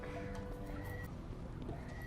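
Horses whinny amid a busy, noisy background in Stargate SG-1, with a few high neighs rising over steady clatter and murmur.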